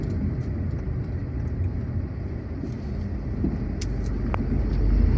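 A car goes by on a coastal road in Lampung, heard from inside a vehicle as a steady, loud low rumble of engine and tyre noise that swells slightly toward the end, with no voices.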